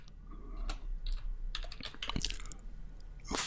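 Someone types on a computer keyboard in a quick, uneven patter of close key clicks. The sound stays fairly soft, with no talking over it.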